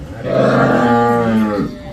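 A dairy-farm cow that has recently calved lets out one loud, close, drawn-out moo lasting under two seconds, with no talk over it.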